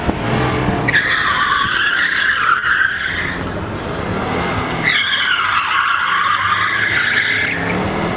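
A car skids through a tight courtyard turn during a speed-maneuvering competition training run in Mogilev, 2015: two loud, sustained tire squeals, each lasting about two to three seconds, over a constant engine roar, with no talking.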